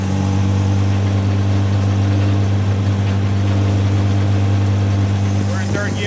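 A 1967 Triumph Spitfire race car engine pulling steadily in third gear, a loud, close, continuous mid-pitched drone with a faint rise near the end, with someone talking briefly over it.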